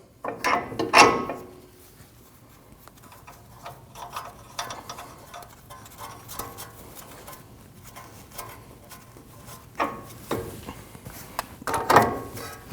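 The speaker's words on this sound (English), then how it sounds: "And tighten your nut." A ratchet tightens the outer tie rod nut on a Nissan NV2500 front strut assembly, giving bursts of close mechanical clicking and clunks separated by quieter gaps, with no speech.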